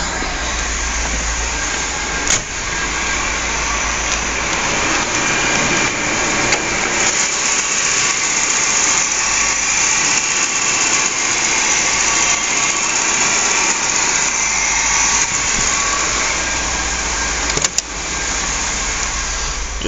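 Volvo 740 engine idling with the hood open, a steady loud mechanical drone and hum that continues without a break, with a couple of brief knocks.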